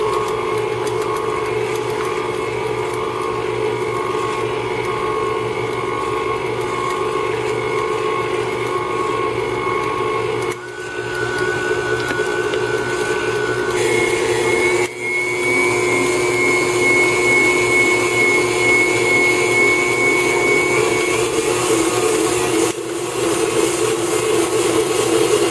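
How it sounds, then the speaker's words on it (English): An electric blender whips cheesecake mixture with a steady whirring drone and shifting motor pitch, briefly dipping twice before continuing, heard alone for a long stretch. "We'll put the blender on and give this a good whipping."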